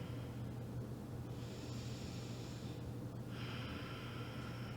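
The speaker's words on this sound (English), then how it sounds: "Take a couple of nice big deep breaths here." Two long, slow deep breaths during a relaxed yoga session, each a soft airy rush lasting over a second, close and quiet over a low steady background hum.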